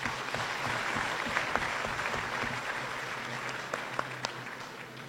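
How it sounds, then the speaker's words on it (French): An audience in a university lecture amphitheatre applauds steadily at the opening of an inaugural lesson, with a soft, even wash of clapping and a few louder individual claps near the end, moderately distant and without speech. "Merci d'applaudir."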